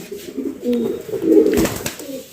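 Pigeons coo steadily at a pigeon farm raising fancy breeds, several low rolling calls overlapping close by with no talk.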